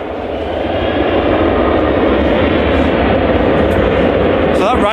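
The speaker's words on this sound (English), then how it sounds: "So that Ryanair took a very early intersection. A very loud intersection as well." A Ryanair plane's engines roar loud and close as it takes off from an early runway intersection at Manchester Airport, a continuous powerful rumble that swells slightly and stays steady to the end.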